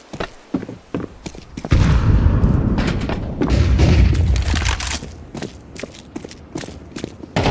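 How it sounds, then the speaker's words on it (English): A flashbang grenade goes off in a video game with a loud, sustained blast that rumbles for several seconds, surrounded by scattered sharp in-game impacts and shots before and after. "Deploying flashbang."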